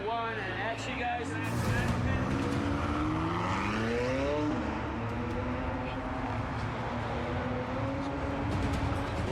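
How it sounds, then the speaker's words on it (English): McLaren car driven on a film stunt set, chased by pursuit vehicles: a loud engine whine rising in pitch as it accelerates past, then a steady roar fading into busy background noise, with voices mixed in. "We've got the McLaren working right now"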